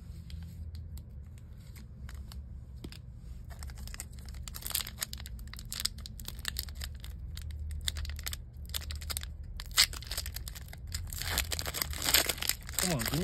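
Foil wrapper of a Marvel Avengers trading card pack crinkling and tearing open, with rustling and ripping bursts building toward the end, under a low steady background hum.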